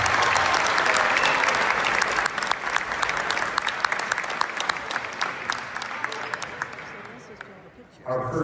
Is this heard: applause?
yes